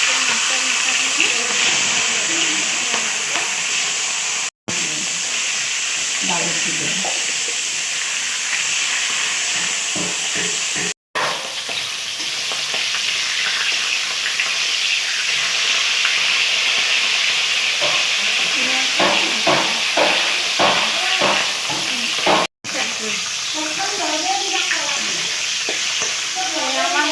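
Fish heads fry in hot oil in a wok with a loud, continuous hiss and sizzle, broken by stirring and turning noises, with a few brief gaps in the sound.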